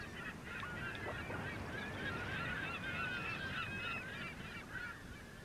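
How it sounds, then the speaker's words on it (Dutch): Seabirds calling by the sea, a steady overlapping chorus of honking, goose-like cries carried over a constant wash of wind and surf, fairly distant and continuous throughout. "En luister naar de vogels."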